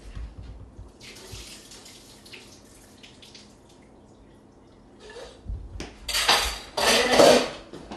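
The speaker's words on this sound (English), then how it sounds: "Okay, I need to drain the water off my potatoes." Hot water is poured off boiled potatoes from a metal pot in a kitchen, with faint clinks at first and then a loud, splashing rush toward the end.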